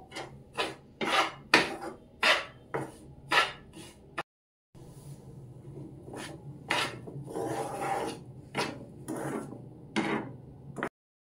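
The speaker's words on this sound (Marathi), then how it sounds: "हे बघा रवा आणि बेसन आपलं चांगलं भाजत आहे." Semolina and gram flour roasting in ghee in a pan for ladoos, stirred with a spatula in a quick run of rhythmic rasping scrapes, a brief pause, then more continuous scraping, close and fairly quiet with no talking.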